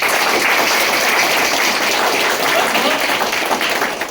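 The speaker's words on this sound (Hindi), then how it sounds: "इनके लिए जोरदार ताली होनी चाहिए" Loud, sustained applause from a seminar audience at a direct selling company event, steady dense clapping filling the room throughout.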